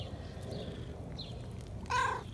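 A pet cat gives a short meow near the end, heard up close over steady background noise from heavy rain in a garden.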